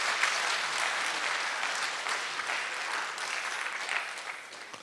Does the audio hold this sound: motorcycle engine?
no